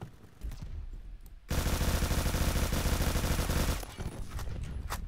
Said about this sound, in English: This machine gun is crazy